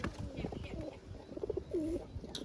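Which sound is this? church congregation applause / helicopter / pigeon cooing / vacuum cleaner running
pigeon cooing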